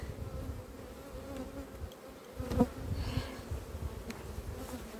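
Honey bees swarm and buzz around an opened wooden beehive during honey harvest, a dense steady drone close to the microphone with slight swells in intensity, no talking.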